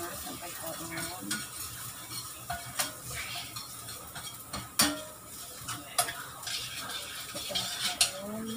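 Garlic stir-fries in a hot pan with a continuous sizzle, broken by repeated sharp clicks and scrapes of a utensil against the pan, close and moderately loud, no talk.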